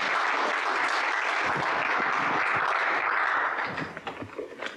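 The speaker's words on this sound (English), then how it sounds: "can we do one more round of applause for our panel?" Audience at a fundraising conference applauding a panel, a dense, loud wash of clapping that holds steady and then thins out near the end, with no voices.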